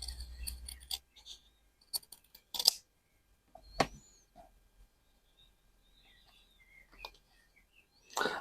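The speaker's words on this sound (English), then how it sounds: "Let's trim that down." Scissors trim the top edge of a slow-stitched fabric postcard, giving a few scattered close snips and clicks with quiet gaps between them and faint chirping in the background.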